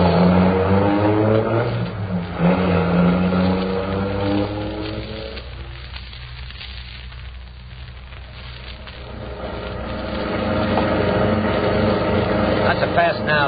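A getaway car accelerates hard in an old-time crime radio drama, a loud steady engine roar that swells again toward the end, with voices talking over it.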